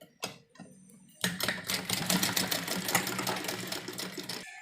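Electric sewing machine stitching heavy suit fabric, with a few short handling knocks before it starts; then a steady, fast rattling stitch carries on at close range for most of the clip before stopping abruptly.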